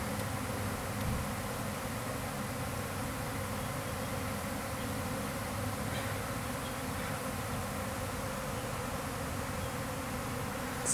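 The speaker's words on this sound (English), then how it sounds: "The amount of bees in the air right now." Honey bee swarm leaving the hive, a dense continuous buzzing from countless bees filling the air, steady and even for the whole stretch with no voices.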